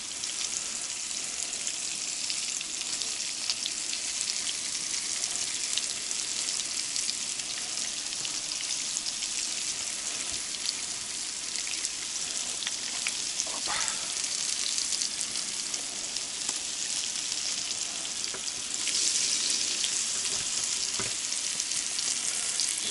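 Fresh pike frying in a pan at a tent camp in the frozen taiga, a steady hissing sizzle throughout with occasional small pops and crackles, heard alone without talk.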